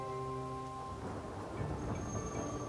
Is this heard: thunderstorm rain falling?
yes